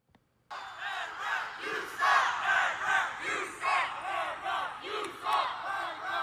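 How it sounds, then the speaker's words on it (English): Home crowd of Carolina Hurricanes fans at an NHL playoff game against the Florida Panthers chanting at the referee, a loud rhythmic arena-wide chant rising and falling in repeated phrases after an abrupt start. "The ref, you suck chants are real loud."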